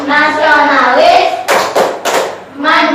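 A group chant in an Indonesian classroom gives way to three loud, close rhythmic claps in a row before the unison voices resume.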